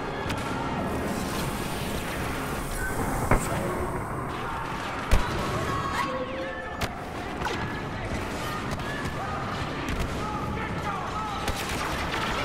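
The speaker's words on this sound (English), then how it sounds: "Stay with R2 and fire like this." Blaster fire in the Star Wars Battlefront video game, a continuous busy mix of rapid shots and a few sharper louder blasts, with a player's voice talking over the action.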